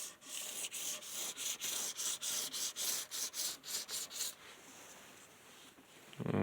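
Rhythmic back-and-forth rubbing strokes filing micro burrs off the ends of a metal Tailtuner part, about a dozen quick even passes then quiet, close and soft.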